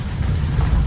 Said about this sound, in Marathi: पाऊस यायला लागला बघ